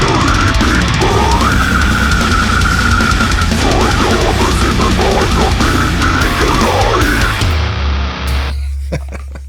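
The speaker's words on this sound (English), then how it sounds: "Welcome to the toilet flush vocal effect." Guttural death metal vocal with a toilet-flush effect: a loud, dense, bubbling growl that churns continuously for about eight seconds before tailing off abruptly.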